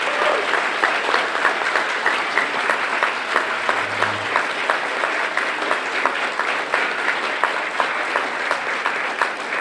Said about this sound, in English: one more round of applause for these fantastic poets